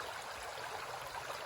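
River water flows steadily in a continuous broadband rush, moderately loud and close, with no voices.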